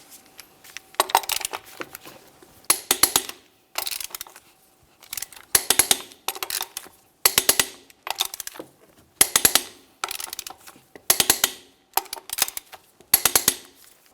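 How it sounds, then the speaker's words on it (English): A torque wrench tightens the rear wheel lug nuts on a 2000–2006 Chevrolet Tahoe to 140 foot-pounds in a crisscross order, giving sharp clustered ratcheting clicks in about ten evenly spaced bursts with short silences between them. "let's torque these in a crisscross manner"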